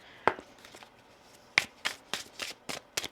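Oracle cards are shuffled by hand in a series of quick riffles and taps, with a short pause after the first burst.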